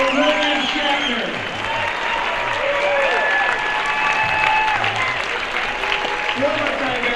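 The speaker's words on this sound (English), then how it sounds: "A massive round of applause for William Shatner" An audience at the Indiana Comic Convention 2025 panel applauds William Shatner on his 94th birthday, a sustained loud round of clapping and crowd noise that continues under a voice throughout.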